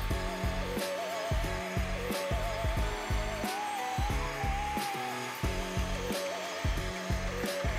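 PerySmith spot cleaner running on a sofa after brushing, a steady motor whine with gurgling suction pulses as water is pulled up from the fabric, close and continuous throughout.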